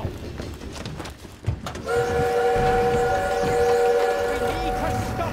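Steam train in Call of Duty WWII, its loud sustained whistle blaring with several layered tones over heavy rumbling rail noise and wartime commotion, preceded by clattering movement.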